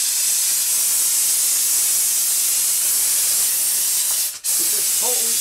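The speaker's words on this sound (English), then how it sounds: "here's the things that steamer is really good for" A handheld steam cleaner hisses in a loud, continuous, breathy jet while working along sink edges, cutting out for a moment near the end before resuming.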